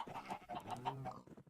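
Chickens cluck in the video game Minecraft, a few soft, quick clucks in a row, faint and with no talking.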